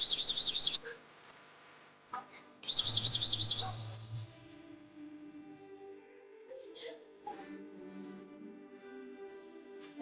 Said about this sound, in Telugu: బర్డ్స్ కి పెడుతున్నా, ఎందుకంటే అవి దాహంకి ఆకలికి కిచ్ కిచ్ కిచ్ కిచ్ అని అరుస్తున్నాయి